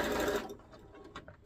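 A sewing machine stitches fishing line into a folded organza hem, its fast whirring motor running loud for a moment before stopping, followed by faint clicks and handling noises.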